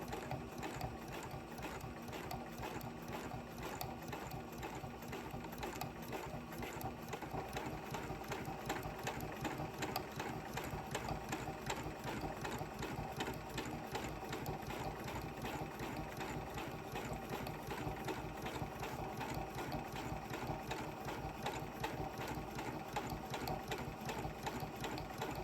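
A sewing machine stitches free motion embroidery on fabric, a steady mechanical whirring with rapid ratcheting needle clatter that runs continuously at an even pace, close and moderately quiet.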